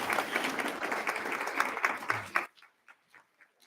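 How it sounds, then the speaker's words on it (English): A church congregation at a Unitarian Universalist Sunday service breaks into full, steady applause that stops abruptly, leaving a few scattered claps and faint murmurs behind. "Go ahead and applaud them."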